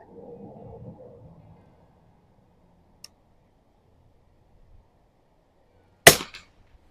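A single sharp shot from a Soviet TOZ-12 target rifle cracks out loud and close near the end, after a low murmur and a long quiet pause with one faint tick.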